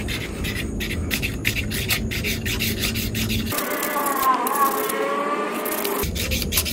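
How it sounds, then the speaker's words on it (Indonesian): Steady back-and-forth rubbing of fine sandpaper on a hard resin and sawdust composite ashtray, a dense scratchy rasp with a brief lighter, smoother pass partway through. "Yang kedua, kita akan menghaluskan dengan hamplas yang halus."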